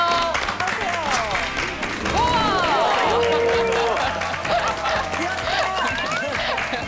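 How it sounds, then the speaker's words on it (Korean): A studio audience on a Korean talk show claps steadily to welcome a guest, with a voice talking over the applause throughout. "여러분 따뜻한 박수로 환영해 주세요."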